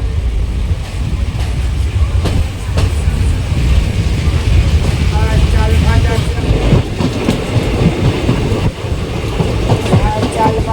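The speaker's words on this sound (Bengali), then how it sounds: "এখন বেলডাঙ্গা স্টেশন থেকে ট্রেন ছেড়ে দিল" Bhagirathi Express pulling out of Beldanga station in Murshidabad and running along the line, a loud, steady rumble with rhythmic wheel clatter and rattling carriages throughout.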